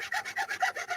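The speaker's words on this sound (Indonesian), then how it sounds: "untuk pemotongan saya gunakan gergaji besi" Steady back-and-forth rasping of a hacksaw cutting through wood, six quick even strokes in a row, close and fairly loud.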